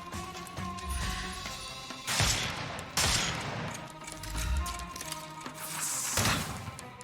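Gunfire in a Sherlock Holmes video game comes as several sharp bursts of shots over a continuous musical backdrop, with loud cracks near two, three and six seconds and quieter rattling between them.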